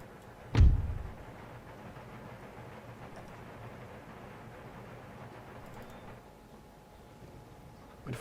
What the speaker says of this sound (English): I really loathe and detest these mortars, I really do. To whom are they firing upon?